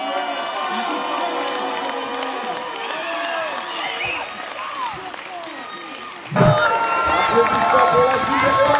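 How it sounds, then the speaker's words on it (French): A crowd cheers and applauds at a Beyblade X tournament. Many voices mingle with the clapping, and a sudden louder surge of claps and shouts breaks out near the end. "Applaudissements pour la superstar."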